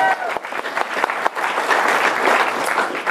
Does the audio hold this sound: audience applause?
yes